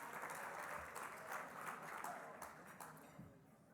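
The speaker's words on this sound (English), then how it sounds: "Let's give a round of applause for our mistress of ceremony from UAW, Lysandra White, doing an excellent job." Sustained applause from a seated crowd at a labor union luncheon, steady and fairly close, holding at an even level before easing slightly at the end.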